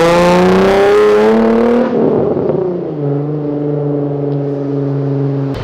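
A Dodge Ram's engine roars loud and close, revving high then dropping to a steady, rumbling drone with strong tonal harmonics, no voices over it.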